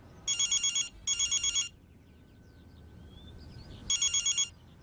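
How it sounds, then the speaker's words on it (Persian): A mobile phone ringing indoors: three bursts of a bright electronic ringtone, two back to back then one more after a pause, each a fast pulsing trill, with quiet room tone between. "موبایلت داره زنگ میخوره."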